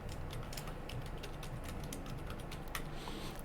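Rapid, uneven clicking of keys on a computer keyboard as an email address is typed in, close and clear, with no one speaking.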